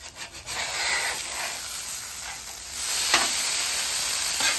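Leftover corned beef hash with melted butter sizzles steadily on a Weber griddle, a close, even hiss with occasional scraping and rubbing, and no voices.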